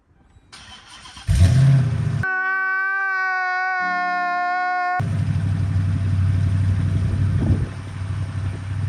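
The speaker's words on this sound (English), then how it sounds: "I haven't started it today, so I'll let y'all hear it start up." Dodge Charger engine cranking and catching, then settling into a steady idle with a brief hum-like gap in the middle before a throaty rumble returns and revs slightly, close and loud, no speech.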